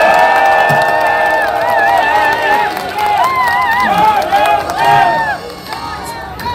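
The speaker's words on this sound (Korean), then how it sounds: "박수 한번 보내주십시오" Crowd at a Korean political rally or protest gathering cheering and clapping loudly, with shouting voices rising in wavering tones over a busy babble of people throughout.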